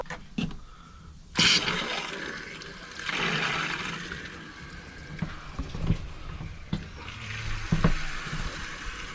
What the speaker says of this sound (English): what I'm going to do is turn on a couple faucets and see what happens